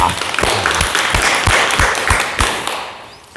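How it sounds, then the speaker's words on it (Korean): Audience applause at a Korean Buddhist-style talk and Q&A session, dense steady clapping with sharper individual claps standing out, loud and continuous before fading slightly at the end. "박수 부탁드립니다"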